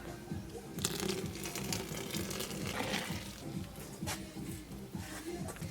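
Warm water poured into a homemade laundry mixture of soap, borax and soda in a container, giving a broad splashing, crinkly gurgle with a few sharper clicks and knocks, close and fairly loud throughout.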